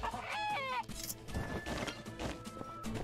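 A rooster clucks and crows in the video game My Time at Sandrock, loud and close, with a crashing hit and busy game sounds around it.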